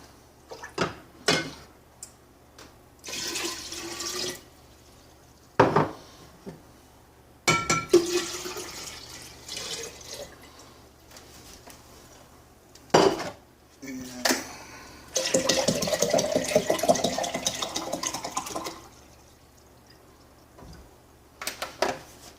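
Sugar water pours into glass jars of water kefir grains, with splashing bursts, glass clinks and knocks between stretches of talking indoors.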